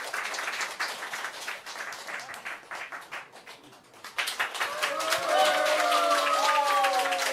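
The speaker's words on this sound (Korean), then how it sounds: "박수 부탁드립니다." Applause from an audience at a stage event with a dance team, with scattered hand claps that dip after a few seconds. Then louder, brighter clapping mixes with tonal, music-like sounds as the performance begins.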